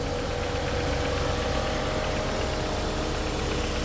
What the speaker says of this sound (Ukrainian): А чуєте, як працює вентилятор клімата